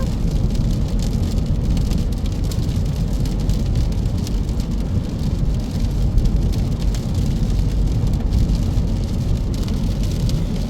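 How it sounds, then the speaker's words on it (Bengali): Heavy rain falls outdoors in winter beside a frozen lake, a dense, loud, unbroken hiss and patter that holds at a steady level throughout with no voices. "ভালো লেভেলের বৃষ্টি হচ্ছে"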